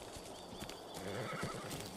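A horse neighs and its hooves clip-clop in the video game ARK: Aberration Ascended; the whinny and steady hoofbeats are fairly faint.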